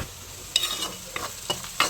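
Onions frying in a pan are stirred, a steady sizzle broken by several scraping strokes of a spoon against the pan, close and without talk.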